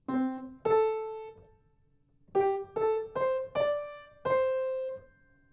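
Piano notes played one at a time, each struck and cut short with brief gaps between them, in a slow detached melody with no talking.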